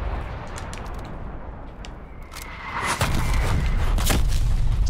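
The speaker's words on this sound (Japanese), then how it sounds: "ここで空爆でしょ" Airstrike in Call of Duty: Black Ops Cold War during a multiplayer match: a low rumbling ambience swells into heavy, booming blasts about halfway through, with sharp crackling debris and distant gunfire layered over the sustained explosive roar.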